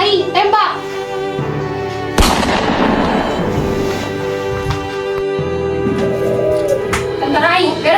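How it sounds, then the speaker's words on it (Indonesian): Gunshots fired by soldiers in a student short movie, a loud burst of rapid shots in the middle with voices shouting around it and music underneath. "Tentara AI, tembak!"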